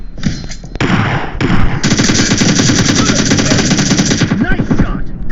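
Rapid automatic gunfire from the battle royale game PUBG, loud and sustained, with dense bursts of shots rattling continuously over several seconds amid in-game noise.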